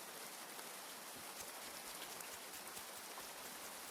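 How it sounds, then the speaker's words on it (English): Rain falling in the farming video game Grimshire, a steady, even hiss of downpour with faint pattering drops, continuous and unchanging without voices. "once it stops raining and it's drier out"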